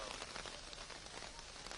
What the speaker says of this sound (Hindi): अरे बारिश हो रही है भाई